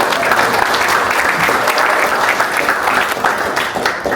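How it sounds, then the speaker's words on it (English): A town hall audience claps in a dense, steady burst of applause that lasts several seconds at close range. "Let's give him a round of applause."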